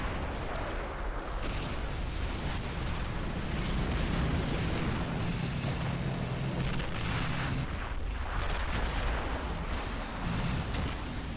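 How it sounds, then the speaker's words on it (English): Heavy artillery fire and explosions in the World War II game Normandy '44, a continuous loud rumbling barrage with overlapping booms and bursts, no voices. "Artillery?"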